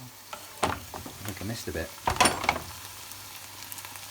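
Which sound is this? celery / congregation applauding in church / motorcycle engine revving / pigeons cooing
celery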